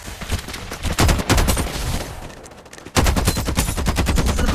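Rapid automatic gunfire rings out in the mobile shooter game Farlight 84, with dense bursts of shots, a short lull, then a fresh sustained volley.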